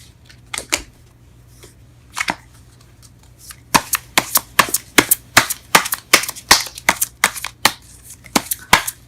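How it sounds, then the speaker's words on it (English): Tarot cards being shuffled and pulled, a run of crisp close riffling snaps and flicks, sparse at first and then rapid and steady, with no talking. "let's go ahead and pull some cards in regards to your reading"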